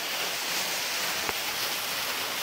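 An artificial waterfall, switched on at a film shooting location, gives a steady, even rush of falling water throughout, broken once by a brief click, with no voices.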